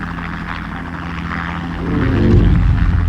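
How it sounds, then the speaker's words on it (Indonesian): A helicopter's low, throbbing rotor rumble swells in partway through and grows loud over a steady background hum. "melihat helikopter yang melintas menuju rumahnya"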